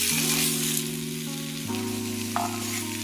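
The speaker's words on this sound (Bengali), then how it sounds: "আমি খুব কম তেলে রান্নাটা করছি বলে সবজিগুলোকে আমি ঢেকে ঢেকে ভেজে নিচ্ছি।" Vegetables sizzle steadily in a little oil in a covered pan while cooking a Bengali thankuni leaf curry, a close, continuous frying hiss with a low hum beneath and a brief clink partway through.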